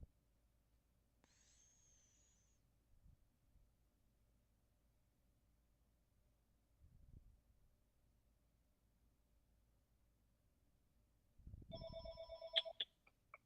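An old home phone rings in a basement, one short electronic ringing burst arriving near the end after a long stretch of near-quiet room tone with a few faint thumps.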